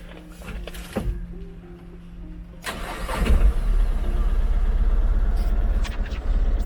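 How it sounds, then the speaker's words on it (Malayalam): A Tata Ace Gold mini truck with about 24,776 km on it cranks and starts midway, then settles into a steady, close, rumbling idle, with a few faint knocks before the start. "ഞാനൊന്ന് വണ്ടി സ്റ്റാർട്ട് ചെയ്ത് സൗണ്ട് കൂടെ കേൾപ്പിച്ചു തരാം"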